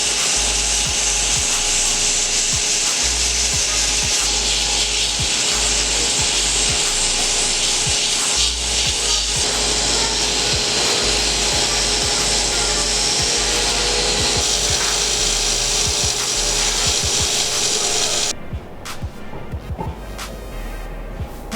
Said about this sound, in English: I will do a bit of sanding.